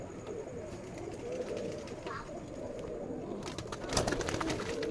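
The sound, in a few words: Rajshahi local Giribaz pigeons cooing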